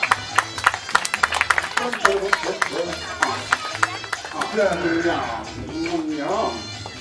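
Scattered audience clapping at an amusement park show, irregular bursts of hands under lively talk and shouts, with a voice running through much of it.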